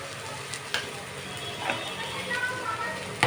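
A ground paste of cumin, coriander and ginger fries in a pan, giving a steady close sizzle with occasional stirring scrapes throughout.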